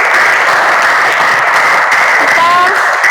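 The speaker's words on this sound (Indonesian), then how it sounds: "Coba tepuk tangan dulu dong untuk kita semua." Students in a classroom clap together in steady, loud applause for a couple of seconds, with a brief voice or whistle-like tone briefly audible near the end.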